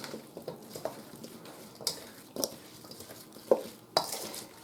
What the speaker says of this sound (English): So now we're just going to stir all this up.